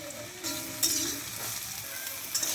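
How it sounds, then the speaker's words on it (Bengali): Soybean chunks fry in hot oil in a pan, giving a close, steady sizzle with a few sharper crackles and scraping stirs, and no talking. "এবার সয়াবিনটা ভেজে, কারণ অনেকেই পনির খায় না।"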